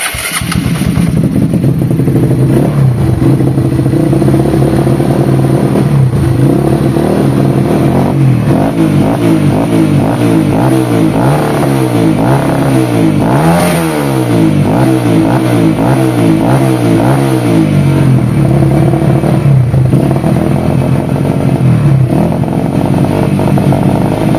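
A Honda CRF/Verza motorcycle engine converted from fuel injection to a carburetor idles loudly and close, then revs up and down in repeated rising and falling sweeps before settling back to a steady idle.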